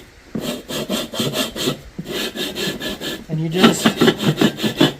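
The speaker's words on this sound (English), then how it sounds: "lap it in. Little downward pressure, lots of rotation." An engine valve is lapped into a cylinder head with grinding compound in a Type 4 engine refresh, giving a steady rhythmic back-and-forth gritty scraping, close and fairly loud, with someone speaking briefly at the start.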